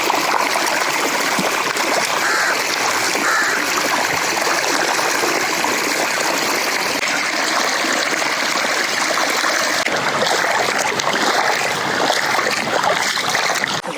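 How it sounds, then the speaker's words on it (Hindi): Cold stream water flowing steadily while people wade through it on foot, a loud continuous rushing and splashing wash close by that holds evenly the whole time. "ठंडा ठंडा पानी है। हम इसके अंदर पैदल चल के जा रहे हैं।"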